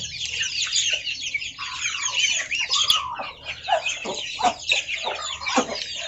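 Laying hens cluck and squawk continuously at close range near their nests, several birds calling over one another with no talking.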